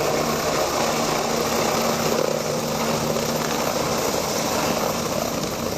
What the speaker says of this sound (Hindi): ये उनका हेलीकॉप्टर जब आसमान में उड़ा उस वक्त की तस्वीर आप देख रहे हैं